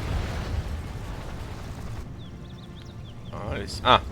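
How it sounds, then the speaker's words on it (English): A recon missile in the strategy game Rise of the Reds detonates with a heavy low rumbling blast that cuts off abruptly, then quieter chirps and a short sharp burst follow. "This is the recon missile."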